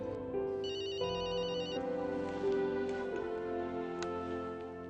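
Telephone ringback on an outgoing call in a Hindi TV drama scene, steady electronic ringing tones over a background music score, moderately loud with no talking.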